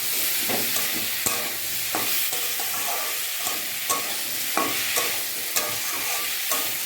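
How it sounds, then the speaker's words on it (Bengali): Ginger paste sautéed in a frying pan, with a spoon scraping and stirring in regular strokes over a continuous loud sizzle, close and without any talking. "আদা বাটা। দিয়ে ভালো করে কষে"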